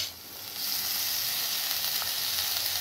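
Dill greens (shepu) sautéing with chopped onion in a pan, a quieter start then a continuous dense sizzle close by, with faint stirring throughout.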